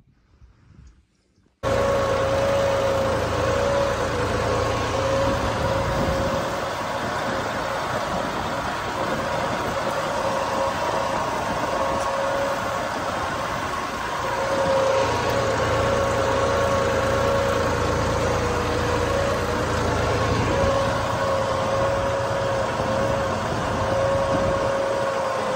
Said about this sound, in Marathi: पहिल्यांदाच ट्रॅक्टर नांगरावरती कसं चालतंय बघू।